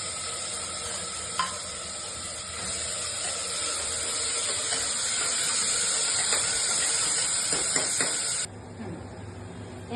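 Finely chopped onion hits hot oil in a pan with peanuts, giving a steady loud sizzle and hiss that runs for most of the clip before suddenly dropping to a quieter simmer near the end, with faint stirring clatter.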